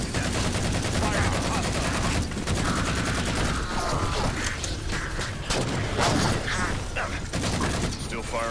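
Heavy battlefield gunfire in Halo 4, dense rapid bursts and repeated shots crackling loud and close, with bangs and mechanical clatter, under radio voices.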